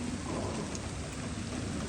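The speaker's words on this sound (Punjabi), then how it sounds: "ਮੈਨੂੰ ਤਾਂ ਮਤਲਬ ਹੁਣੇ ਹੀ ਖੜਾਕ ਸੁਣਾਈ ਦਿੱਤਾ ਇੱਕ ਦਫਾ ਬਾਰਿਸ਼ ਦਾ" Heavy rain pours down in a dense, unbroken hiss that stays close and fairly loud from start to finish, with no voices over it.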